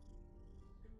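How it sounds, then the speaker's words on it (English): A cat purring in the video game The Huntress of Chetwood, a soft continuous rumbling purr, faint and steady throughout. "I heard it meow, and then I heard it purr."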